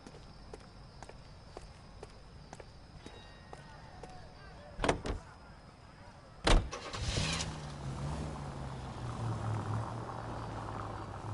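A car in L.A. Noire, a detective's own sled rather than a department-issue Nash, heard from footsteps and a door thud through the engine starting and then a steady drive, the motor droning on.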